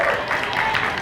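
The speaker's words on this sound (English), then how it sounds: "Put an applause sound effect to go with this." A brief, dense burst of applause from a crowd, steady clapping filling the short moment without pause.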